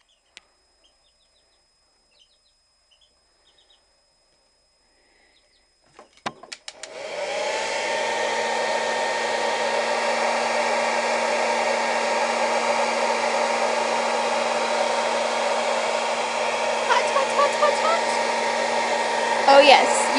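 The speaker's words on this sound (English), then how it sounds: "You're going to take your hair dryer" A hair dryer blows onto a wig being held back and set with hairspray: after about six seconds of near silence it switches on abruptly and runs as a loud, steady whoosh with a hum until the end.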